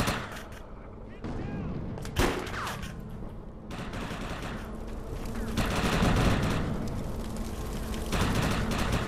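Rapid gunfire in the shooter game Defiance crackles in dense bursts and volleys, with sharper single shots punching through a continuous roar of weapons fire.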